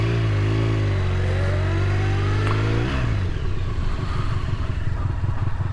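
A Honda VFR motorcycle engine with nearly 40,000 miles runs close and loud, its pitch climbing under throttle before dropping into a lower, pulsing idle-like throb.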